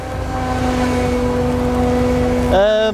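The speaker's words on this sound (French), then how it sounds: "tu entends au niveau du moteur des petites variations de régime" A Claas Katana forage harvester engine runs with a steady loud drone and strong harmonic tones, with small fluctuations in engine speed and a brief rise in pitch near the end.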